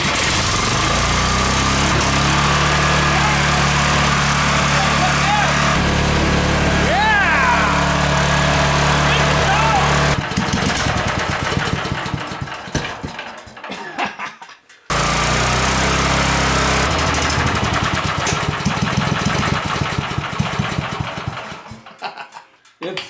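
A small generator engine fed fully on wood gas runs with a steady loud drone, falters and cuts out near the ten-second mark, then roars back before sputtering down again.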